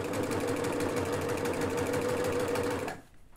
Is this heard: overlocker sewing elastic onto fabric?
yes